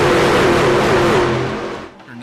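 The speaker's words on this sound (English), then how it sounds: "I know those trucks are coming in loud" Race truck engines in a Daytona truck series racing video game. A loud, close, roaring drone with a wavering pitch fades briefly near the end.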